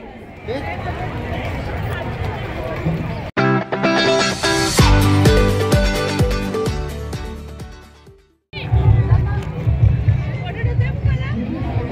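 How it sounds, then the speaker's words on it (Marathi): A large crowd packs the ticket counter at the Rotary Panvel Festival 2023, its steady babble of many voices broken by a loud burst of music in the middle before the chatter returns. "प्रचंड अशी गर्दी पाहायला मिळते"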